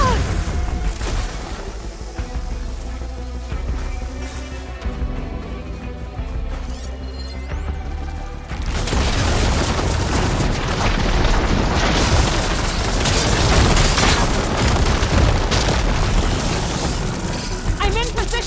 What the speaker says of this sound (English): Where they can also fire a few shots from that ballista.